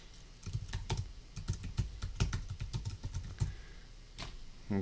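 Rapid typing on a computer keyboard, a close, steady patter of individual key clicks with a few louder strokes, heard alone without talk.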